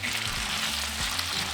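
Potatoes seasoned with salt and pepper fry in a pan with a loud, steady, close sizzle that crackles evenly throughout and has no talking over it.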